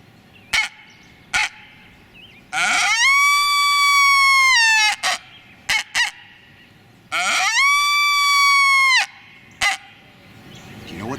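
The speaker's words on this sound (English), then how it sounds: "If you said that's the sound of a coyote" A coyote, also called a brush wolf, calls in spring bushland, giving two long, steady, high howls, each about two seconds, with short sharp yips and barks scattered before, between and after them.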